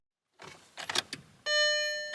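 Inside an old Volkswagen car in Central Ohio: a few soft knocks and rustles, then a steady, loud electronic chime-like warning tone that holds to the end.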